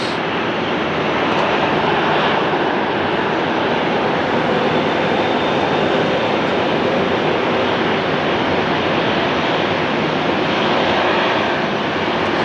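American Airlines Boeing 737 Max 8 jet on short final to runway 8 at Phoenix on a hot day, a loud, steady broadband engine roar that stays constant throughout, with no voices.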